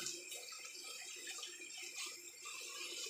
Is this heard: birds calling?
no